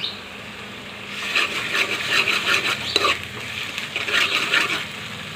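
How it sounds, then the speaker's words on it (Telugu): Ginger paste sizzles and is stirred into golden fried onions and tempering seeds in a pan for a dry fish curry; close, continuous frying hiss with rhythmic spoon-stirring scrapes and no talking. "ఒక స్పూన్ అల్లం పేస్ట్ వేసుకుందాం"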